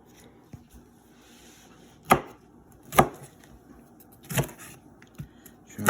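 A knife chopping broccoli for soup on a cutting board, four or five sharp, spaced thuds against a quiet kitchen background, close and distinct.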